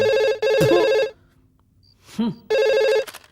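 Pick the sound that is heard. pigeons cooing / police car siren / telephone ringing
telephone ringing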